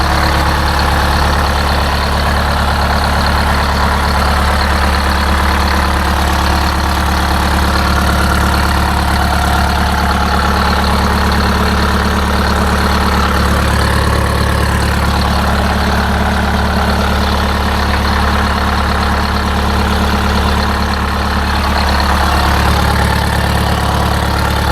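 Detroit Diesel 8V-71 engine idling just after starting, a loud, steady, even drone with a deep low rumble that holds unchanged throughout, with no talking.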